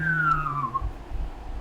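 A person imitates a UFO by humming and whistling at the same time, producing a single short whistle that glides downward above a low hum. The sound is close and fairly loud and has an eerie, slightly warbling quality.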